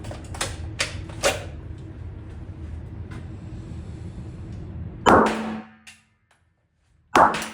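A quick series of sharp pistol shots close by during a bill drill, a handful in rapid succession, followed by two more loud cracks after a brief silence.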